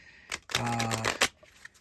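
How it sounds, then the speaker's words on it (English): A Johnson card shuffler deals cards with a short mechanical whir and clatter that lasts under a second, bracketed by small clicks, close and fairly loud. "the card shuffle that both of us weren't sure if it would work"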